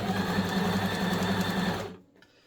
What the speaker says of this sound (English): stitch the back onto this fabric